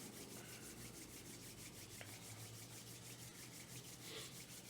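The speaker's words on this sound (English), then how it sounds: "Rubbing the hands together." Palms rubbing together in a quiet yoga session, a soft, steady, very faint swishing friction sustained throughout under a constant background hiss.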